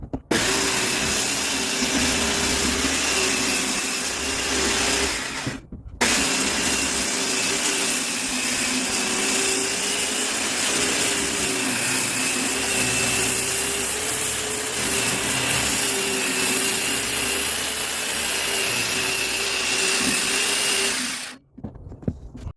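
A power saw cutting reclaimed deck boards into shorter lengths, a loud continuous motor whine with grinding cut noise, briefly stopping and restarting, then cutting out at the end, with no talk.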